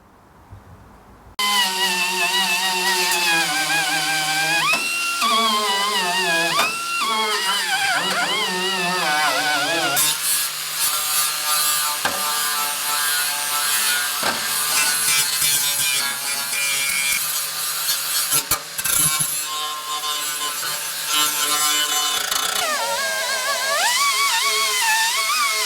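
Power-tool abrasion works over the original fender apron metal of a 1966 Mustang, a loud, continuous grinding whine that rises and falls in pitch as pressure shifts, starting abruptly after a short quiet lead-in and running close and unbroken.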